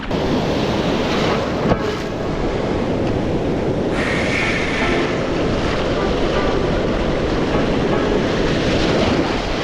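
Ocean surf at a surfing spot, a steady loud wash of breaking waves mixed with heavy wind rumble on the microphone, continuous throughout with no clear speech.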